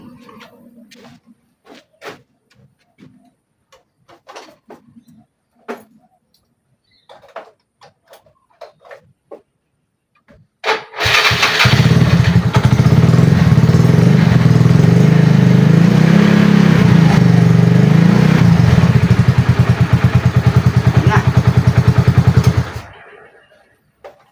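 Honda XRM motorcycle engine cranked by its starter and firing up, running loud and steady for about twelve seconds before cutting off, preceded by scattered quiet clicks and handling noises.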